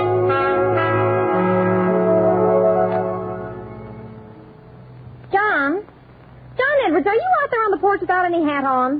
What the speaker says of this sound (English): let's ring Mr. Edwards' bell first.